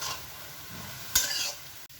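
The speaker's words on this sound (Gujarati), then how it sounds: "3 નાની ચમચી ટોમેટો સોસ નાખીશું અને એને બરાબર મિક્સ કરી લઈશું." A spoon stirs a samosa filling in a pan as tomato sauce and red chili are mixed in, giving a soft scraping sizzle with one brief louder scrape midway; no one speaks.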